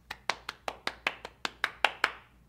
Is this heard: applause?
yes